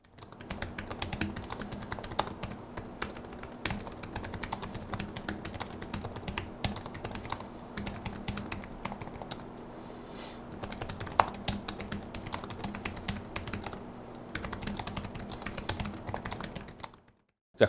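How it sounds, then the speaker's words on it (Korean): Steady typing on the pantograph keyboard of a Samsung Odyssey NT850XJ-Y78A gaming laptop, a continuous stream of quick, close keystrokes clicking with a constant low hum underneath. "타건음 한번 들어보시죠."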